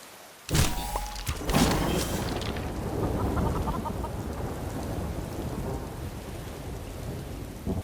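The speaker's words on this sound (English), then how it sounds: "I'm really hoping that that lightning strike wasn't my dragon." A lightning strike cracks loudly in a thunderstorm inside a Minecraft-style video game, a sharp burst followed by a second thunderclap, then steady rain rumbling on through to the end.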